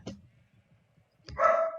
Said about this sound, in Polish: O Boże, mój pies.